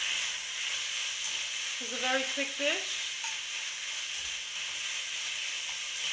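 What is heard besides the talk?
garlic stir-frying in a pan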